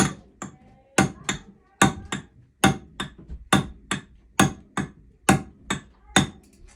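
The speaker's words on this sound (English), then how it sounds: "Now we'll take a bigger hammer and we'll set it." A bigger hammer drives a part into place, delivering about sixteen sharp metallic blows in steady pairs, close and loud, with quiet gaps between strikes.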